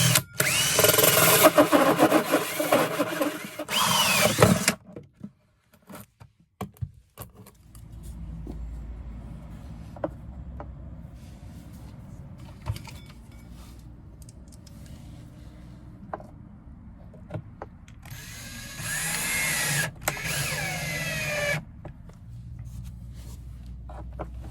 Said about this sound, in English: drilling this.